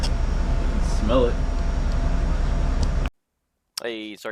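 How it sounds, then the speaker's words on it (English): A Dometic heater's blower motor runs in a truck, recorded right beside it as a loud, steady close-up whoosh for about three seconds. A brief voice cuts in partway through, then it falls silent before someone speaks. "I put the camera right in front of the blower motor"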